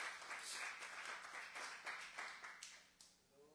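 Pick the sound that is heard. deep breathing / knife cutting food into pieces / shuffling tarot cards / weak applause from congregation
weak applause from congregation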